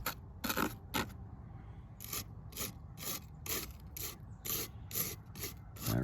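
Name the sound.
toothbrush scrubbing burnt composite layup residue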